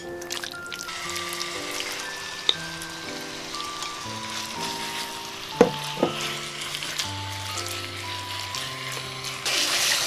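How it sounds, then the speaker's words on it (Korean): Pork stir-fries in oil in a pan, sizzling loudly and continuously. Chopsticks stir and scatter the meat, adding scraping and clacking, with a couple of sharp knocks against the pan. No one speaks. "고기를 젓가락으로 이렇게 흩어가면서 볶아줄 거고요"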